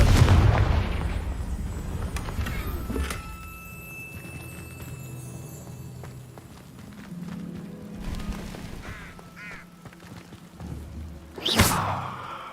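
Blasting spell explosions in the video game Hogwarts Legacy, with a booming blast at the start, further thuds and crackles through the middle, and a sharp loud burst near the end over low game ambience.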